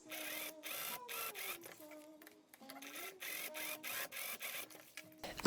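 A sewing machine stitches the pocket onto a welt of a spring jacket, running in several short bursts with brief pauses between them, close and moderately loud with no talking.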